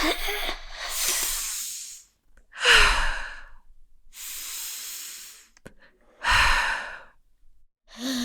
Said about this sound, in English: Take some deep breaths with me.